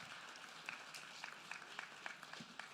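A school audience applauds a student drumline at a public education address, faint scattered clapping rising from a distance in a large hall.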